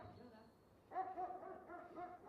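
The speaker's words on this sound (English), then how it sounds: "Yeah, you hear the dog barking." A dog barks and yelps repeatedly at a distance, several short bursts in a row, fairly faint against background noise.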